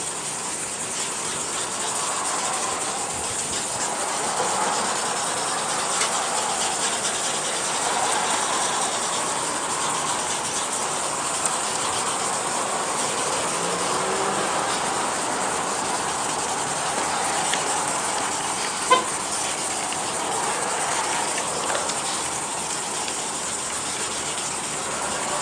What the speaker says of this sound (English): you want to scrub it a few more times until there's no more residue coming off